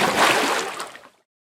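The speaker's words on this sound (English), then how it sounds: "More splash." A single short water splash sound effect in a cartoon cake animation's sound design, a bright broadband burst that fades out within about a second, heard alone.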